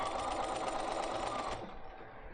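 A sewing machine runs quilt pieces with glued edges straight off the end of the seam, a loud, steady whirring stitch that slows and fades after about a second and a half.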